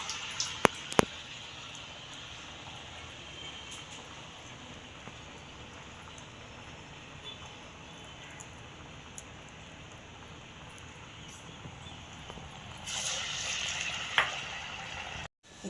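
Urad vada batter frying in hot oil gives a soft, steady sizzle and crackle throughout, faint and close, with a brief brighter hiss of bubbling near the end.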